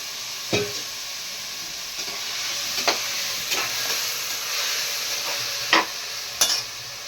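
Vegetables for a Chettinad dish sizzle steadily in a hot pan, with occasional scraping stirs of a spatula at irregular intervals.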